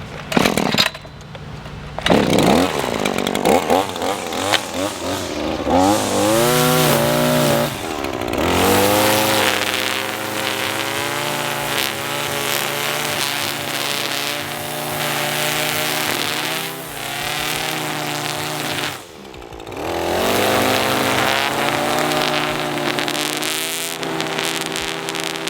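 Gas string trimmer flip-edging a sidewalk, a loud, continuous two-stroke whine that rises and falls in pitch as the throttle is revved, with a brief drop near the start and another around nineteen seconds, running close and alone throughout.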